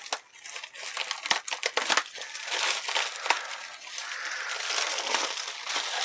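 Packaging around a foam tray insert for the Doom board game gets torn open and crumpled up close, a dense run of crackling rips and crinkles that carries on throughout.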